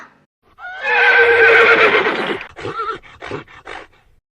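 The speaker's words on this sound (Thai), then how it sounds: "เดี๋ยวมาฟังเสียงของม้ากันก่อนนะคะ" A horse whinnies loudly and close, a long wavering neigh followed by several short snorting, breathy bursts, with no voice over it.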